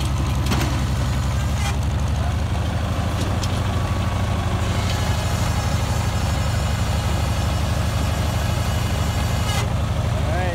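A tractor engine with a front bucket idles with a constant low, throbbing rumble throughout, close by and steady, with a few faint clanks on top.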